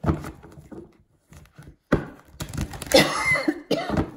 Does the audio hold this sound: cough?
yes